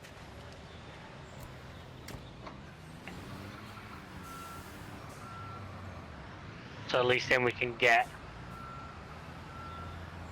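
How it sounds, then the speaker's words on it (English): Reversing beeps from a construction truck in Construction Simulator, a few sharp, close high-pitched beeps in quick succession near the end, heard over low engine hum with people talking earlier. "I'm going to move this truck out of the way"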